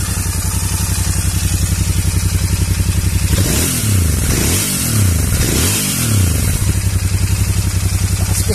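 A 2023 Royal Enfield Interceptor 650 motorcycle idles with the microphone close to the exhaust, a rapid, throbbing exhaust pulse, then revs up and down a few times before settling back to idle.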